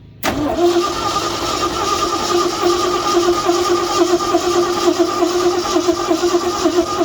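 A 1969 Ford F100 shortbed pickup that sat outdoors for years with no hood catches abruptly after a brief crank, then holds a loud, close, rough idle with slight throttle swells throughout.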